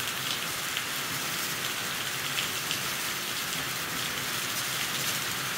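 A sudden heavy rain shower pours down in a steady, dense hiss of drops striking surfaces, even and unbroken throughout with no voices.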